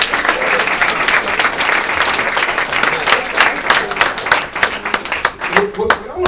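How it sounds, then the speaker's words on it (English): An audience at a corporate training facility gives a round of applause, loud dense clapping with distinct individual claps standing out, thinning toward the end as voices come in. "Can you give him a round of applause?"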